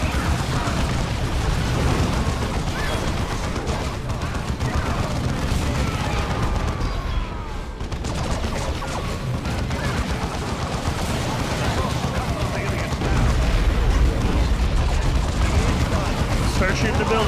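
Gunfire and explosions from the strategy video game Dawn of War II, including rocket launcher fire, rolling on continuously as a loud, dense barrage with booms and rapid shots, swelling slightly toward the end.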